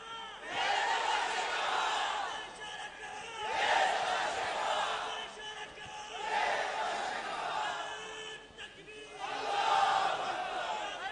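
A large crowd at a religious conference chants slogans in loud, repeated waves, four surging rounds of massed voices rising and falling in a steady rhythm.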